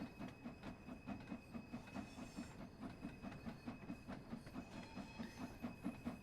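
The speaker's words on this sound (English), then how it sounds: "Now we're chuffing along, can you hear?" Steam locomotive chuffing along in the Train Sim World video game: a steady, rapid, rhythmic exhaust beat with a hissing wash on top, fairly quiet and continuous throughout.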